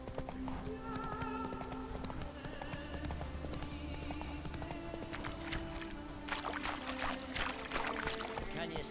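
Roach the horse trotting in The Witcher 3, a steady run of clip-clopping hoofbeats over nine seconds with a faint neigh, backed by game music and someone talking over it.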